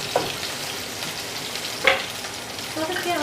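Oil splatters and sizzles steadily while tomatoes sauté in a home kitchen pan, with a sharper pop near the middle and faint voices underneath.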